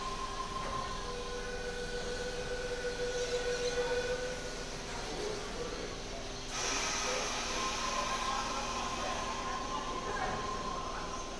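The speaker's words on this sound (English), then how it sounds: "YouTube is the train pulling up." A train pulling up at Miranda Interchange, rolling in with a low rumble and faint whining wheel squeal, a hiss cutting in midway as it slows.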